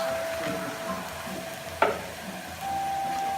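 Eggs cooking in a pan for a Christmas feast, heard as a soft continuous sizzle with a single sharp clink partway through.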